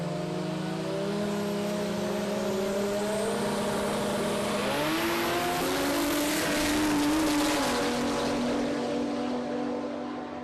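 Aeroflow Outlaw Nitro Funny Cars at Palmyra Dragway launching in a Pro Turbo round, a loud, sustained roar of engines rising and shifting pitch midway as the cars power down the strip, heard without speech.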